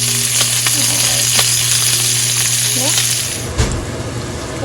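Eggs fry in a pan with a loud, steady crackling sizzle, close by, with a few light scrapes and a short voice near the end.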